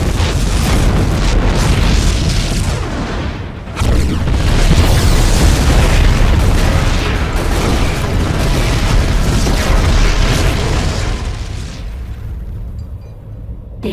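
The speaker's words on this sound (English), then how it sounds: "The explosions have stopped." Heavy explosions from StarCraft 2: Heart of the Swarm, a loud, continuous barrage of booming blasts and rumbling debris with a brief dip near four seconds, fading out toward the end.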